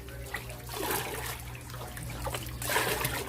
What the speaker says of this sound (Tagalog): Ito nagtabog tubig.